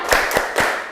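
A classroom of pupils does a focus clap rhythm, three sharp, loud claps in quick even succession, close and unaccompanied by talk.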